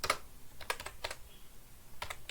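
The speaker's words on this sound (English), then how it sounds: "type in the same name" Keys on a computer keyboard clatter in short bursts of quick clicks separated by pauses, close and fairly quiet.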